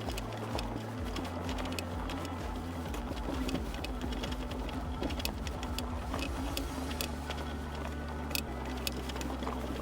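A Puckipuppy Labrador Pro electric bike motor whines under throttle while climbing uphill in a low gear, a steady mechanical hum with stepped pitch shifts and faint clicking, continuous and close, with no talking.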